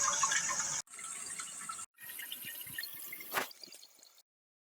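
Water rushes into a newly installed toilet tank as it refills, a close, hissing trickle and splash that cuts out briefly twice and ends in silence.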